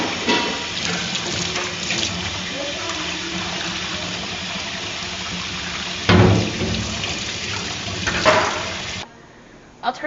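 Tap water runs steadily into a big utility sink while chocolate fountain parts are rinsed, with louder splashes and clatter as pieces are moved, then the flow stops near the end.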